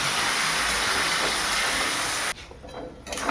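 Water hits a hot kadai of spiced, fried potatoes for a rui fish curry, giving a loud, steady sizzling hiss that cuts off abruptly, then faint bubbling and crackle follow.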